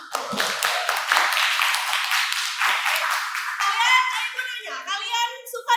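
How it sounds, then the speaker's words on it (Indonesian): Schoolchildren in a classroom clap together in a dense, brisk burst for several seconds, then the clapping gives way to young voices speaking. "Kita tepuk tangan."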